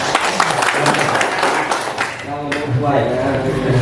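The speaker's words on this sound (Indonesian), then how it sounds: "Beri tepuk tangan dulu" Audience applause at a village community gathering, a dense steady wash of clapping filling the clip with voices and talk mixed in throughout.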